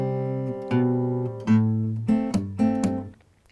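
A guitar plays the chords of a song with bass notes and quick strums, a close sustained sound with several distinct chord changes and bright attacks, fading at the end.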